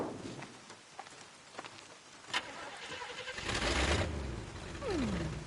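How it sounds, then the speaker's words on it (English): A car engine starting and settling into a low idle in the game Bayonetta, with some clatter and shuffling beforehand and a rising whine near the end, moderately close. "Engine still purrs nicely."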